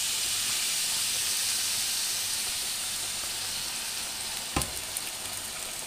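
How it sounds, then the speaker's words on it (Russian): Steady broadband sizzling of potatoes and pork frying in a pan over very low heat, continuous and fairly close, with a brief clatter near the end. "поджариваем это на очень медленном огне"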